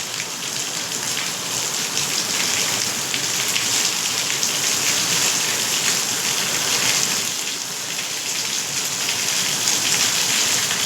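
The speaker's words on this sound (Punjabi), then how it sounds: "ਬਹੁਤ ਤੇਜ਼ ਮੀਂਹ ਪੈ ਰਿਹਾ ਹੈਗਾ" Heavy rain pours steadily and loudly throughout, a dense continuous hiss with no voices or breaks.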